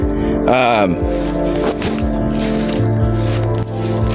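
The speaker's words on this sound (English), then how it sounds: "I'm walking in a place, this is all water." Squishy splashing footsteps wading through water in a video game, a wet squelch followed by soft repeated steps, fairly loud over a steady droning background.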